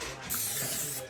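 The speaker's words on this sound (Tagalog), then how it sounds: "We will spray it with olive oil." Olive oil sprayed onto a pork lechon before oven roasting, a short close hiss of aerosol spray that starts partway in and then fades.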